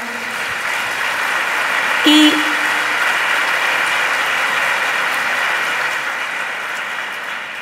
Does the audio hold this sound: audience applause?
yes